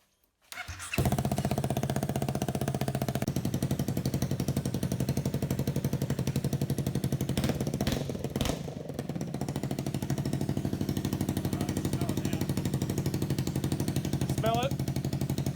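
A Honda-powered go-kart engine with a turbo starts up and runs steadily at a loud, rough idle, a continuous buzzing drone with brief revving changes partway through.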